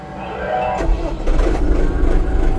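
A 2025 Skout 504C tractor diesel engine starting, a low cranking rumble that catches and rises into a heavy, rough running clatter, close and loud, with no talk.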